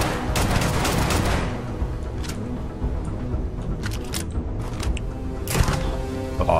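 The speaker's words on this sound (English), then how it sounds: "I'm just shooting the poor guy." Gunfire from a player shooting an enemy on stairs in the video game Starfield, a dense run of sharp repeated shots followed by scattered single cracks, loud and close.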